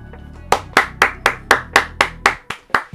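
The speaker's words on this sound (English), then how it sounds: "Everybody give a round of applause." A single person clapping close by, about ten sharp, evenly spaced claps in a steady rhythm after a brief low murmur, loud and dry with no crowd.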